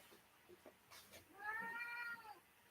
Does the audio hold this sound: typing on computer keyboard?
no